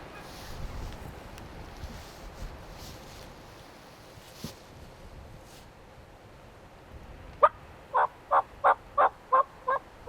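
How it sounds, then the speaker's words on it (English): Wild Merriam's turkey hens in freezing, windy Montana give a quick run of about seven sharp, evenly spaced yelps, clear but somewhat distant, after a stretch of quiet wind noise. "I can hear them hens over there yelping around just a little bit."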